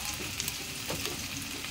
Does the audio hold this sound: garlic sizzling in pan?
yes